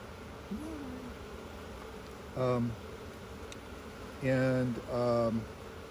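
Honey bees hum steadily at a hive entrance thickly coated with live bees, a constant low drone throughout, with a few short bursts of nearby voices over it.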